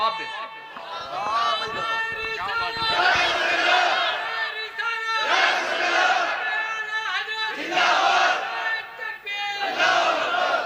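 A large crowd at a Ramadan religious gathering roars back the Takbir chant in repeated loud, massed shouts, surging in waves with short gaps between them.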